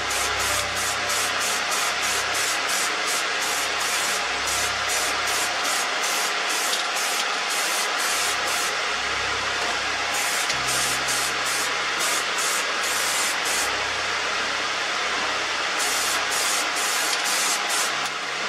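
An aerosol can coats the headlight of a Ford Transit Connect Mk1 van in a blackeye conversion, hissing loud and close in a long series of quick pulsed bursts with short pauses between, no speech.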